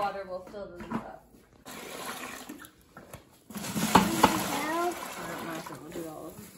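Water splashes and pours while refilling goats' water on a farm, bursts of splashing and trickling amid moving and handling noises, with people talking at points.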